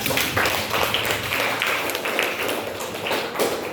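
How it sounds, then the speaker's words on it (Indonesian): Classroom applause for a student group after a presentation, a dense steady patter of many hands clapping throughout, fairly close and continuous with no talk over it. "kita beri aplaus dulu untuk kelompok 3"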